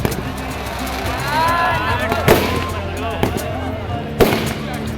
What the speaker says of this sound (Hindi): जबरदस्त आतिशबाजी